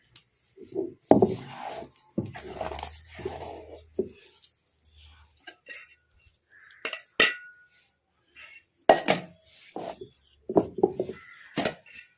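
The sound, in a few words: ground batter transferred into a vessel, dishes clinking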